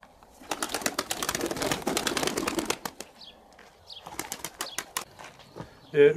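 Pigeons beat their wings in a loud, dense burst of flapping for about two seconds, then scattered wingbeats and rustles follow, with a short low coo near the end.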